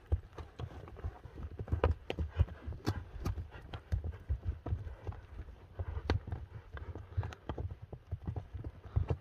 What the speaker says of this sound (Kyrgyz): Ортодо жүгүрүп жүргөн аттар